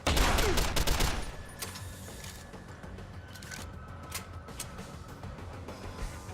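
Gunfire in the video game Deus Ex: Human Revolution: a rapid burst of loud shots at the start, then scattered fainter shots and mechanical clicks against background game noise.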